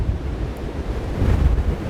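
Strong gale-force wind gusts buffet the microphone on an exposed coast, a loud continuous low roar and rumble with surging swells, no voices.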